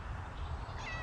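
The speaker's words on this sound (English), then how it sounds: "If you hear cat meowing," A cat meows in drawn-out, wavering cries over a steady low hum, ending on a clear, tonal meow.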